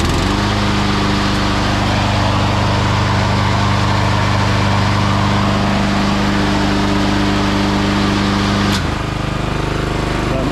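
Weibang Virtue 53 SSD petrol lawn mower with blade brake clutch runs at a steady, loud idle for about nine seconds, then its drone shifts and drops briefly near the end before carrying on.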